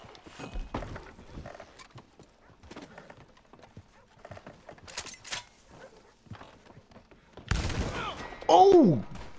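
Gunfire in a Red Dead Redemption 2 online shootout in Blackwater, with scattered shots and thuds among horse hooves, ending in a loud burst of noise; voices speak over it.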